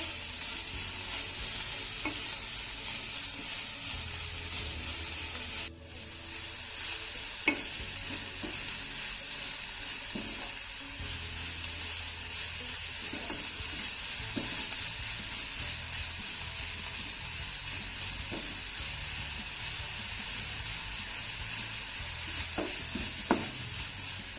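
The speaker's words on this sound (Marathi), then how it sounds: "आपली कोथंबीर देखील छान अशी परतून झालेली आहे" Finely chopped coriander being sautéed in a pan with a ground spice paste for Maharashtrian kothimbir vadi, giving a steady soft sizzle with occasional light stirring clicks, close and even throughout.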